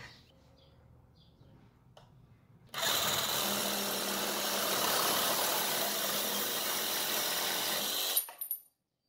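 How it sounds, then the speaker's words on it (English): A Ryobi cordless reciprocating saw cuts through a metal pipe, a loud, steady buzzing rasp that starts abruptly after a few quiet seconds of handling, runs for about five seconds and stops with a short clatter. "this reciprocating saw worked really well on both wood and metal"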